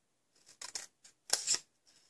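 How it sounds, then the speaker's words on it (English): Scissors snip through paper while a small gift box is trimmed, giving about four short, crisp cuts in an uneven rhythm, close and clear with no voices. "So we're going to snip up here."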